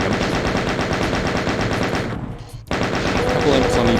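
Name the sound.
chain gun firing in the video game Doom II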